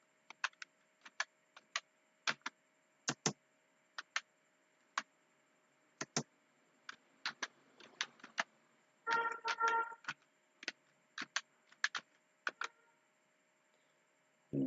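Light keystrokes on a computer keyboard tap out in irregular bursts, close and quiet in a still room, with a short cluster of faster clicks midway.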